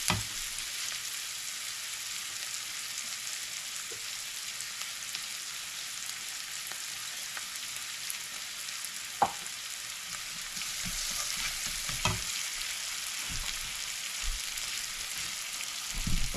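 Onion and spinach fry in a pan with a steady, soft hiss and sizzle that runs throughout, broken by occasional faint stirring clicks.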